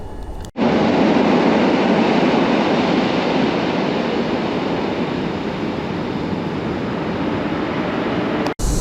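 An EP08 electric locomotive hauling a passenger train rolls past at a central Warsaw station, a loud, steady roar of wheels and rail noise that sets in abruptly and holds for about eight seconds before cutting off.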